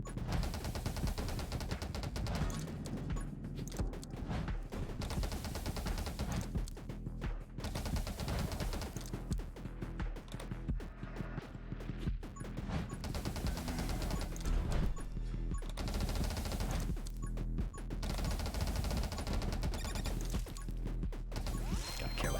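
Rapid gunfire from a character's weapons in the action survival game 20 Minutes Till Dawn, a dense, continuous barrage of shots layered over game effects and music at steady loudness with no talking.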